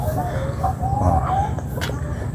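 Backyard chickens in a rural egg-laying area cluck and crow in short, bright calls over steady low rumble and ambient noise, moderately close, with no clear talking.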